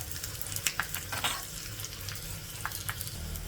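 Tempering spices, garlic and dried red chillies fry in hot oil for a pickle, giving a close crackling sizzle with sharp pops and spatters scattered over a low steady hiss.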